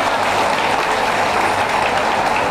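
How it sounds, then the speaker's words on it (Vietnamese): Steady, even applause from a gathered audience at a Vietnamese community cultural celebration, continuous and full without breaks, heard from within the crowd. "một tràng pháo tay để tôn vinh Mẹ Việt Nam của chúng ta"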